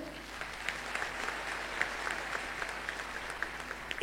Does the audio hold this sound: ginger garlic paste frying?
no